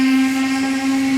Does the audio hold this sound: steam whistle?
yes